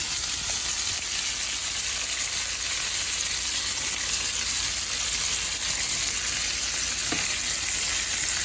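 Unsalted butter sizzles and crackles steadily in a hot pan with striped bass fillets, a constant bright frying hiss close by with no talk.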